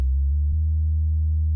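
A deep, smooth synth bass from a song remake, holding low sustained notes, with a couple of quick pitch changes at the start, plain and clean.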